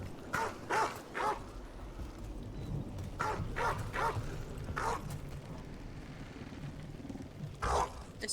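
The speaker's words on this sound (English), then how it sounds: "I haven't seen a single dog, but some bastard is barking." In Dragon Age: The Veilguard, a Mabari dog barks in short repeated bursts, single and paired woofs spaced over a low ambient game backdrop.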